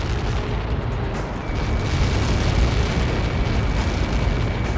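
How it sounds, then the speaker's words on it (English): A massive explosion from the Ace Combat 7 flight combat game rumbles as a dense, sustained roar of low booming noise that swells slightly and continues for several seconds, loud and without speech. "How many got caught in that explosion?"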